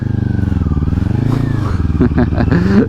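A motorcycle revs and passes close by, a loud engine drone that rises in pitch, with sharp throttle blips near the end. It unfolds on a road beside a Kawasaki Ninja 400.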